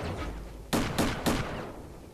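Three rapid heavy booms from a tank's autoloading gun in World of Tanks, evenly spaced about a quarter second apart, loud and close over a low background rumble.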